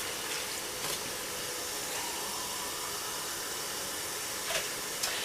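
Two cans of water pour into a pot of chili beans with tomato sauce, a continuous close rushing hiss running from start to end.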